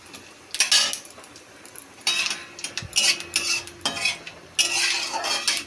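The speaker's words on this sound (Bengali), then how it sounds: "ডালটাকে ভালো করে ঘেটে দিয়েছি" Biuli dal (lentils) is stirred in a pan with a metal utensil, giving bursts of scraping and clinking in several short rounds, close and alone.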